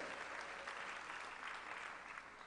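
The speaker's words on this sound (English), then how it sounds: "And I hear some clapping." Audience at a school district opening day program claps steadily, a dense, even patter of many hands heard at moderate distance.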